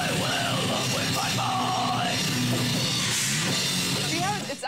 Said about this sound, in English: See how it's actually easier to scream, right?